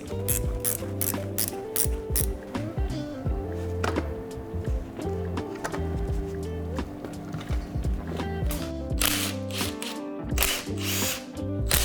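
A ratchet tool clicks rapidly and continuously while a lower bracket is removed, close and loud, with rhythmic bursts of metallic pawl ticking and brief pauses between strokes.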